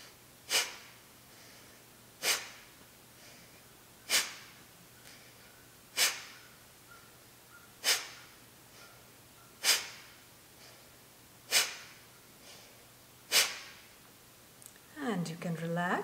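Bhastrika pranayama bellows breathing: eight sharp, forceful nasal exhalations at a steady pace of roughly one every two seconds, close and alone against a quiet background, ending with a longer drawn-out breath.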